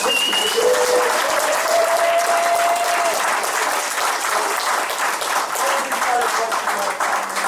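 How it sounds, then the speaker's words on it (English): Loud, dense applause fills the room from an audience at the Silver Scream Spook Show at Monsterama 2019, sustained without a break, with a few shouts and whoops rising above the clapping. "I want you guys to give these guys a big round of applause."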